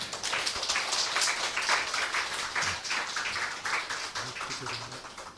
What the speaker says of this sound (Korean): 우리 선교사님 모실 때에 우리 환영의 박수로 크게 박수하며 우리 선교사님 환영하겠습니다